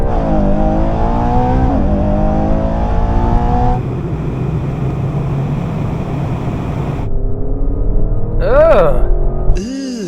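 SUVs in a drag race accelerate hard, with engine tones rising through the gears and loud in-cabin engine and road roar, ending in rapid up-and-down whooping revs.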